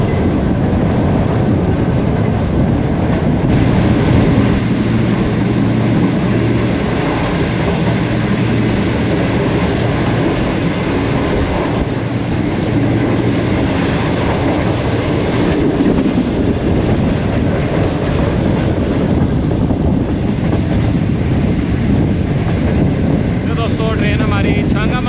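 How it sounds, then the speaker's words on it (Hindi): The Shalimar Express on the Lahore to Karachi route runs at about 107-108 km/h past an abandoned railway station, giving a loud, continuous rumble and rattle with rhythmic clatter and heavy wind buffeting the microphone. "दोस्तों ट्रेन हमारी भोए असल अबैंडन रेलवे स्टेशन से पास थ्रू कर रही है।"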